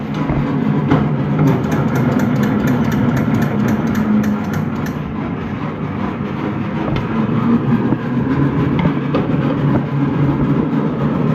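Fosdick radial drill running at speed, a steady loud machine hum with continuous low rumble and mechanical whir throughout, a brief higher whine pulsing early on, no talking.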